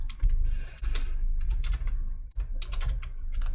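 A password is typed on a computer keyboard in rapid, close clattering keystrokes in short bursts, with no talk.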